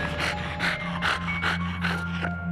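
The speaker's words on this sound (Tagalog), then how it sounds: "nakarinig siya ng tunog ng parang hinihingal na aso" A dog pants in quick, rhythmic breathy huffs, about six bursts in close succession over a steady low hum; there is no talk.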